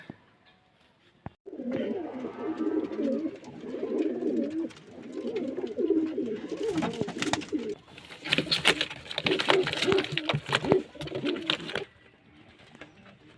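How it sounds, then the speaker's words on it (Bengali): Pigeons coo steadily and repeatedly at close range, their low throaty calls layered together, with some rustling and fluttering in the later part. "যে পায়রাগুলো দেখছেন খুব ভালো বাজির পায়রা এগুলো"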